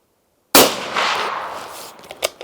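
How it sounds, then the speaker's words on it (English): A single loud Sauer 505 rifle shot fired at a 100-yard range, an abrupt blast after silence with a long rolling echo trailing off, followed by faint clicks of handling. "Last shot for the day."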